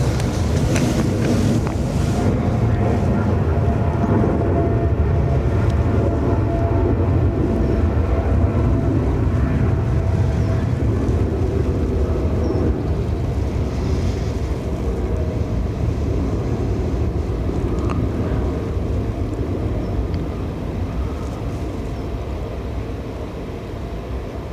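A Dubai Air Wing Boeing 747 freighter at Dublin airport rumbles with a heavy, continuous low roar that holds steady and eases slightly toward the end, mixed with wind buffeting on the microphone; no voices.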